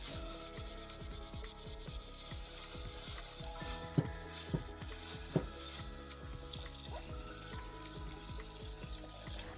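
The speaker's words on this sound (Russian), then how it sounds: "После мытья кастрюльку нужно хорошо сполоснуть под водой" A pot is rinsed under a running kitchen tap. The water flows in a steady close stream, with a few brief clunks of the pot partway through, and no talking.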